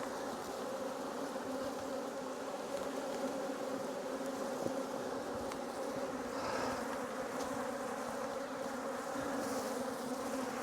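Honey bees at a new apiary, a dense, steady hum of many bees buzzing nearby, fairly quiet and continuous, with individual bees passing closer now and then.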